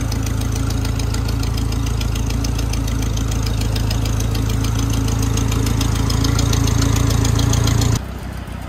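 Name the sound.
tractor engine backing up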